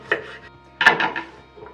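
A knife chops vegetables on a cutting board while prepping a marinade for Bavarian-style pork knuckle: a few close, sharp strikes come in small clusters with short pauses between, and no talking.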